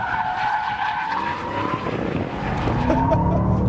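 A 2013 Ford Shelby GT500 power slides on a race track, its tires squealing and skidding loudly and steadily over a rumbling engine, with no talking.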